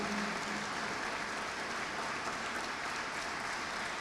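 A large gathering applauds at a distance, a faint, even wash of clapping that stays steady throughout, with no voice over it.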